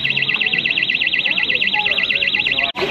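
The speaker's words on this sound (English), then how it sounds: "Is that your bike alarm?" A bike alarm sounds outside a cafe, a loud, close electronic warble rising and falling in fast, even cycles for nearly three seconds before cutting off abruptly, with faint voices underneath.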